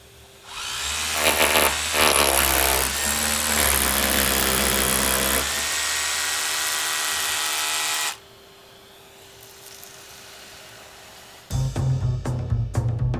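A loud power drill whirs steadily for several seconds as it drills into a wall, cuts off, then a short burst of drilling returns near the end after a quiet pause.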